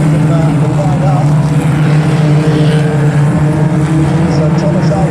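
Ministox race cars circulate at Aldershot Raceway after a restart, a loud, continuous engine roar with a steady droning pitch and no breaks, with a commentator talking over it.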